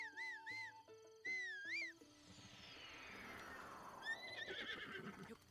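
Horse in Zelda Breath of the Wild neighs twice in quick succession, loud and close with wavering whinnies, then a third neigh rises over a broad rushing noise.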